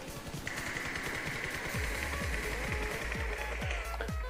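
Rapid automatic gunfire in PUBG Mobile on the Nusa map, a sustained stream of loud, close shots with repeated sharp bursts layered over game ambience.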